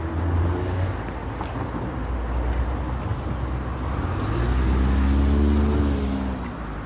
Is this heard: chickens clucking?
no